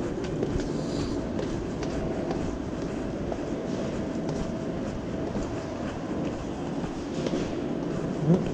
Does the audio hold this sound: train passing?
yes